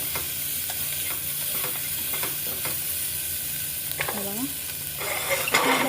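Onion fries with a soft, steady sizzle in a pan while a spoon scrapes and stirs at intervals. A brief squeak rings out near the four-second mark, and the hiss swells louder toward the end. No one speaks.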